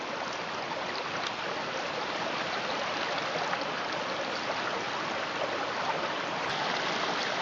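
The River Roeburn, a stream in an eroding wooded valley, rushes and gurgles in a dense, steady wash of flowing water heard close by, with no voices.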